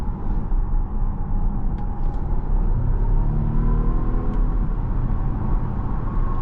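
A 2025 Volvo S90 plug-in hybrid T8 Ultra accelerating to overtake, heard from inside the cabin as a steady loud road rumble with a rising engine tone swelling beneath it.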